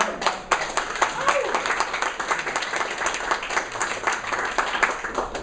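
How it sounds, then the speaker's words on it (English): An audience at an evening panel discussion gives a round of applause: dense, steady clapping from many hands at moderate volume for several seconds, mixed with some talk. "Let's give a round of applause."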